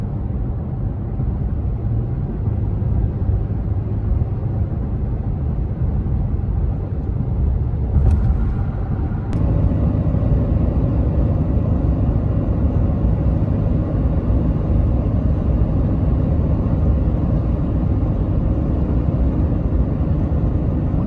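Toyota Tacoma engine in 5th gear at about 2,100 RPM, cruising around 70 mph on the highway while towing a small RV, producing a steady, continuous low drone with road and wind rumble throughout and a brief shift in tone partway through.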